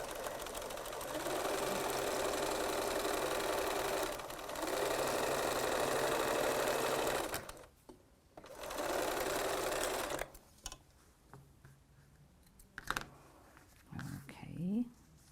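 A sewing machine stitches a straight seam on a crazy quilt, a steady close whir that runs in long stretches, stops briefly and restarts, with a voice speaking near the end.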